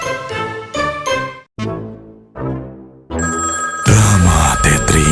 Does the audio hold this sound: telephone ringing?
yes